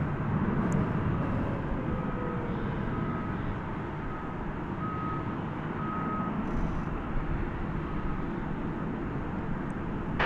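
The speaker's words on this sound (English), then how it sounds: "this plane is definitely headed over the bridge to the east side of the airport for takeoff" An airliner taxiing at night toward takeoff at DFW airport, a steady broad rumble and roar of engines with faint intermittent beeping tones, heard from inside the cabin.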